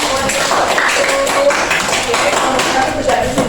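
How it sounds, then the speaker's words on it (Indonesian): A classroom of students applauding together, a dense, steady patter of clapping that runs throughout at close range, with voices mixed in. "Oke, tepuk tangan semuanya"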